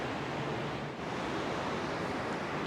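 Gas burners on a Blackstone griddle roar steadily, a dense, even rushing hiss that stays loud and unbroken throughout, with no talking.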